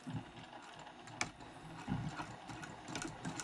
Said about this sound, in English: we're going to go ahead and stitch down in the back tack or back stitch